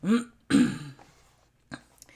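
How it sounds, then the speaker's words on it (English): Two short, harsh coughs or throat-clearings in quick succession from someone recovering from COVID, close and fairly loud, followed by a softer catch and a brief faint click. "Excuse my cough and such"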